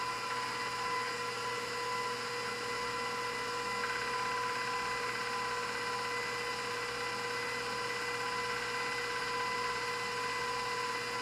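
A pasta machine rolls fresh homemade pasta dough, giving a continuous, even mechanical whine with a steady hum underneath that holds at the same level throughout, with no voices.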